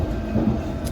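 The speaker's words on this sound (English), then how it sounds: "I'm on the train now, people." Interior of a London train during a ride, with a steady low rumble and rolling rail noise close around the listener, no talk.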